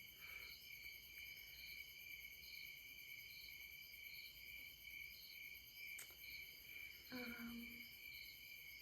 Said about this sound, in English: The crickets are kind of their own poem right now.